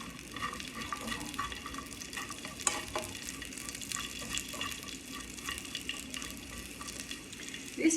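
Onions slow-cooking in a pan for sukiyaki, giving a low, steady sizzle with occasional stirring scrapes throughout, fairly quiet and with no talking.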